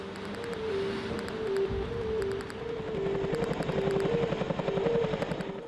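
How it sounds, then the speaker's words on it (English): Chinook helicopters drone steadily at close range, the rotor chop pulsing fast and evenly through the whole stretch and swelling slightly toward the end. Only machinery is heard. "worked with a squadron of Chinook helicopters and boats"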